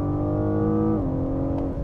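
BMW M760i V12 sedan in Sport Plus mode pulling hard out of a corner, a steady loud engine drone with a brief drop in pitch as it shifts gears, close and continuous with no talk.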